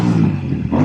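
A Royal Enfield Super Meteor motorcycle exhaust revs in a short, loud, close burst with a deep throbbing engine note.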